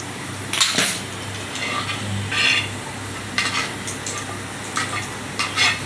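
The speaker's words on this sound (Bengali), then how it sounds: "ডিম ভাজা হচ্ছে।" An egg frying in mustard oil sizzles steadily beside a low hum, broken by several sharp bursts of scraping and spatter from a utensil working the pan.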